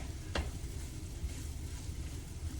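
Mushrooms stirred in a drying pan for a beef and mushroom stroganoff, giving a low, soft sizzle with faint scraping and one sharp utensil tick near the start, heard alone.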